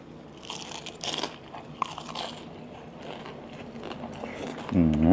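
Biting into crunchy deep-fried battered bottle gourd: a few crisp crunches and chewing sounds close up, moderate in volume, with a voice speaking at the end.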